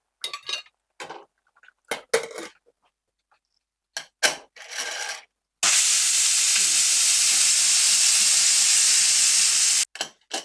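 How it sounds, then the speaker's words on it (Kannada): A pressure cooker whistles while ghee rice cooks. The hiss bursts out loud and sustained for about four seconds, and short bits of talking come before and after it. "ಒಂದು ವಿಷಲ್ ಕೂಗ್ಸ್ಬೇಕು."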